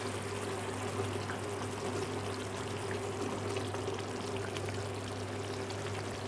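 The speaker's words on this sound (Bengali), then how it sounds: "আমি আস্তে আস্তে মাছগুলো দিয়ে দেবো।" Hilsa fish pieces slide into hot mustard oil in a pan, setting off a steady, even frying sizzle that holds at a constant level throughout, with no voices.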